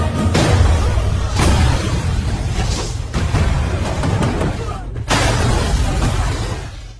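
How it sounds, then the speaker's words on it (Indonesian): A villain's vehicle explodes in an Indian action film, with loud booming blasts and shattering crashes in bursts across several seconds of dense, roaring noise. "Hentakan kakinya membuat kendaraan penjahat meledak."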